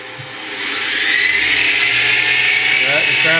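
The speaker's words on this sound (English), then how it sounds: "So, spindle on. That's 1200 RPM." A CNC machine's spindle motor spins up and holds at 1200 RPM, a steady high-pitched electric whine that swells over the first second and then runs loud and even, with faint talk beneath.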